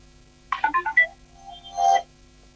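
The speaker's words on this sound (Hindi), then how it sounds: "दीपक जी, मैं डिबेट पे हूँ, फोन करता हूँ।" A mobile phone ringtone plays a short melodic run of electronic notes, then a second sustained phrase, close and clear over a quiet studio hum during a TV debate.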